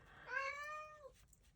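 A house cat gives a single clear, drawn-out meow indoors, moderately close and fairly quiet, followed by a brief soft rustle.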